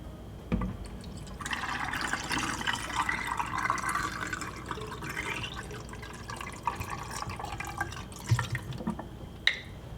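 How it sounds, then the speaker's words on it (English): A film development processor running with water, giving a steady trickle and splash of flowing liquid with scattered drips, close and fairly quiet. "Now it's time to fire up our massive dev app."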